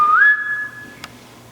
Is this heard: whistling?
yes